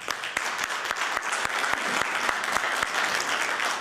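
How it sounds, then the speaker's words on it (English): Audience applause at an evening human rights event, a steady dense clapping that fills the room, with no talk over it. "A huge round of applause for all of these."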